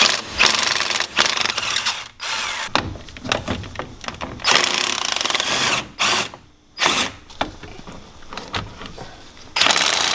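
An impact wrench removes 15 mm wheel bearing bolts from a 2009 Jeep Commander, firing in several loud, close rattling bursts broken by short pauses.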